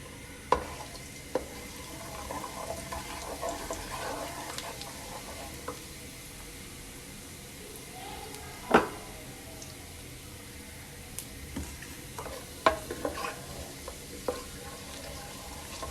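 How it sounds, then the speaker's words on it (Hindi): Cumin, cinnamon and cloves sizzle quietly in hot oil in a karahi over medium-high heat, a soft continuous crackle broken by a few sharp clicks and utensil taps. "ये मसाला ज़रा सा हम लोगों ने तेल में गरम करना है"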